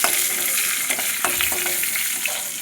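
Slit green chillies hit hot oil seasoned with dried red chillies, bay leaf and five-spice, giving a loud, close, continuous frying sizzle with small crackles and pops.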